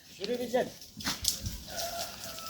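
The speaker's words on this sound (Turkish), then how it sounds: "Kaç tane koyun var burada?" Sheep bleat in a village street beside goats of a roaming flock, with short nearby bleats mixed with people talking.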